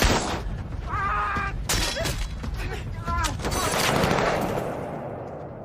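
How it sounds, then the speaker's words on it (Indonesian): A film gunfight in which loud bursts of gunfire crack and rattle in rapid volleys, with a mechanical clatter between shots and a dense, chaotic mix of action effects. "untuk menyelamatkan diri, adu tembak antara mereka pun terjadi"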